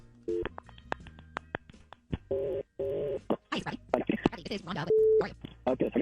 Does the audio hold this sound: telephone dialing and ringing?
yes